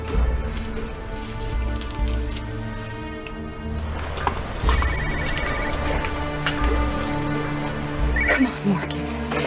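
A telephone rings in a drama scene, repeated electronic ring bursts over a background music bed, with a few sharp clicks and knocks along the way.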